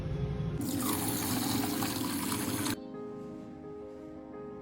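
Water runs steadily into a pressure cooker holding soaked rice and dal, a loud close splashing pour for about two seconds before it stops, leaving a quieter liquid settling sound.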